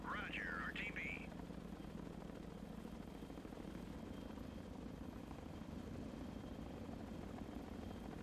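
Helicopters fly in the Sea Power naval game, their rotors producing a continuous whirring drone at a steady level, with a brief chirping radio-like sound at the start.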